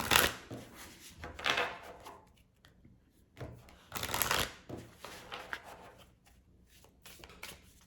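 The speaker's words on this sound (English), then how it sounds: "So we're going to draw an oracle card." Oracle cards are shuffled by hand in bursts of papery riffling and rubbing, with a few louder flurries separated by quieter gaps, close and with no talking.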